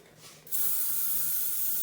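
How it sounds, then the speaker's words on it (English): Hairspray hisses from an aerosol can onto a late Victorian styled hairdo, starting abruptly midway and holding as one steady, close, loud spray to the end with no talking. "I'm going to give it a little spray."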